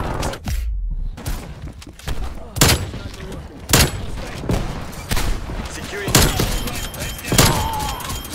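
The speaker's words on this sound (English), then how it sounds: "GodSPD playing with 2 sniper rifles and absolutely shredding through the opposition" Sniper rifle fire in Call of Duty, a string of loud separate shots spaced about a second apart, each a sharp crack with a short tail, over steady game noise.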